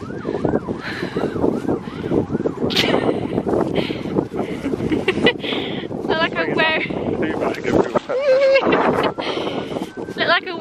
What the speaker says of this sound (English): Very windy up on the knoll.